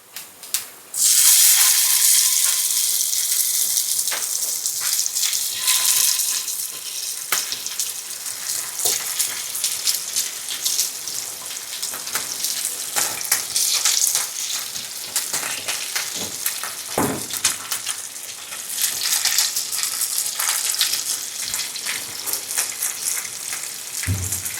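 Sardines sizzle and spit steadily in hot oil in a pan, a loud continuous frying hiss with occasional sharper crackles and pops throughout.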